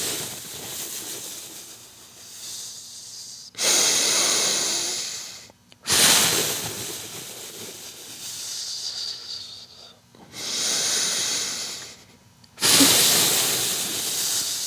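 Slow, deliberate breaths during a pelvic floor bracing exercise: four long, airy exhales rise and fade in a steady rhythm, close and fairly loud, separated by quieter intakes.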